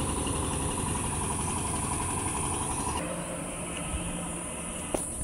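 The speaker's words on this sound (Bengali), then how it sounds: "দেখতে পাচ্ছেন যে আর একটা অটো আসতেছে" An auto rickshaw's engine hums steadily on a busy village road during Eid, a low continuous drone that shifts and eases partway through, ending with a faint click.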